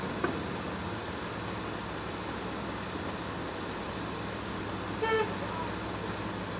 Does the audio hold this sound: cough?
no